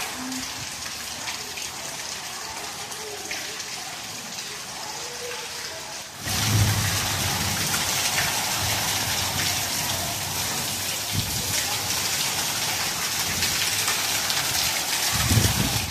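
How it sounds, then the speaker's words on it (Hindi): Heavy rain pours down in a steady, dense hiss that grows louder partway through, with a few heavier splashes and no talking. "यहाँ पर इतनी बारिश हो रही है, आप यहाँ पर बारिश देख लेना, बहुत ही ज़्यादा बारिश है"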